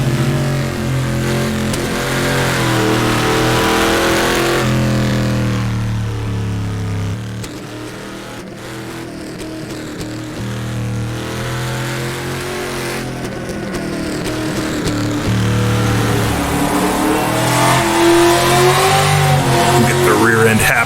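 Race car engine in rFactor 2 revving hard through gear changes and rev-matched downshifts, pitch climbing and dropping repeatedly, loud and continuous while someone talks over it.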